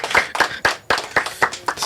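Audience clapping after a performer's closing set, sharp irregular claps at close range, about seven distinct bursts over two seconds with no talk.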